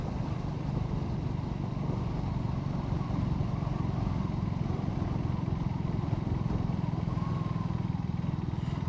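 A Triumph Speed 350 motorcycle cruising in sixth gear at around 60 km/h, giving a steady, continuous engine drone mixed with wind and road rumble that stays even in loudness throughout.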